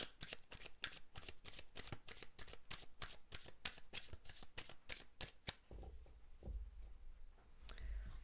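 Tarot cards are shuffled close up in quick, rhythmic riffles that give way to softer handling and a few light taps near the end, with no talking over them.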